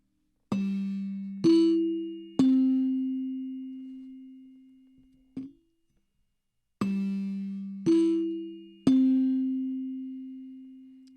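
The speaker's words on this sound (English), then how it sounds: "It's cool to have these chimes." NBC chimes sonic brand: three clear struck chime notes, G-E-C, each ringing and decaying, played twice with a faint isolated tap between the two runs in a quiet room.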